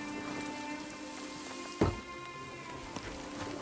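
Hail pattering down in the video game Nightingale, a steady soft rain-like hiss over a low tonal music bed, with one brief thud near the middle.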